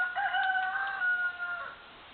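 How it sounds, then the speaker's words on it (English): A single rooster crows once, a drawn-out cock-a-doodle-doo at moderate distance, clear against a quiet background, at a host family house in Stauceni. "That's the neighbor's rooster."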